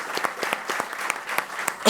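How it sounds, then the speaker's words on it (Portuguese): Applause at a coaches' congress session: a brief round of crisp, closely spaced claps from a seated audience, fairly near and unbroken for two seconds. "pedir também uma salva de palmas para os 2."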